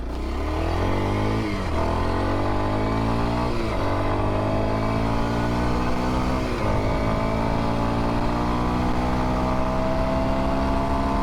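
A 2022 Kawasaki KLX230S ABS motorcycle accelerates hard through its gears, its engine whine climbing steeply, dropping briefly at each shift and climbing again, loud and continuous and heard from the rider's position.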